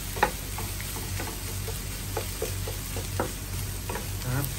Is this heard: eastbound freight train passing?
no